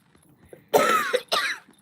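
Two harsh, loud coughs close to the listener, the second following shortly after the first, with a quiet room before and after.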